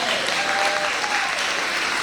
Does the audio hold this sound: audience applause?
yes